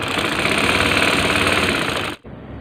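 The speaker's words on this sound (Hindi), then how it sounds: "सिलाई हो रहा है ना अभी" A sewing machine runs continuously at speed while stitching a ladies' shirt with piping, a loud close rattling drone that cuts off abruptly near the end.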